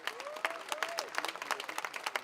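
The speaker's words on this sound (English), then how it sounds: "Let's get them a big round of applause." Audience at an awards ceremony at a hotel breaking into brisk applause, dense clapping from a crowd indoors with a couple of whoops or voices rising over it.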